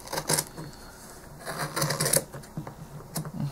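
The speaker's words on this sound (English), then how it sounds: "so now we're going to cut these with our scissors," Scissors snip through strands of curly yarn for a left-handed Celtic cross throw, giving several close, crisp rasping cuts at an uneven rhythm, with no talking.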